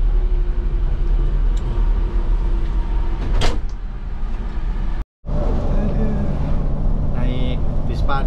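Interior of an NPM V66 "Tuan Muda" coach bus on the road out of Padang, with a steady low engine and road rumble throughout, a brief clunk midway, a short dropout, and people talking in the background.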